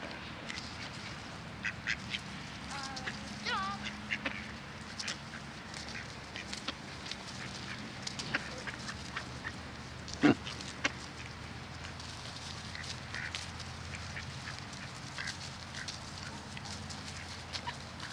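Ducks being fed, giving scattered quacks and clucks among a low steady outdoor background, fairly faint and close, with a few sharper calls and no clear talk.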